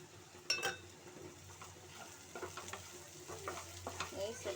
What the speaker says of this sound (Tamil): இப்போ வந்து நான் கொஞ்சம் நெய் சேர்த்துக்கிறேன்.